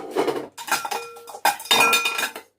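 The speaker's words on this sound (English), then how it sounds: "Can you see all these pans?" Metal baking pans clatter and clink in a busy kitchen, a dense run of sharp metallic knocks and ringing scrapes in two bursts, close and loud, with no talk.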